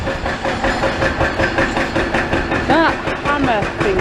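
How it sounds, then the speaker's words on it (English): Heavy demolition hammer pounding at a building demolition site, a loud continuous rapid hammering with engine drone, steady and close throughout. "That hammer thingy is super loud, isn't it?"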